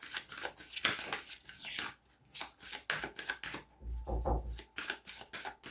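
Angel cards being shuffled by hand, a run of quick papery riffles and flicks repeating in bursts, close and fairly soft, with no talking.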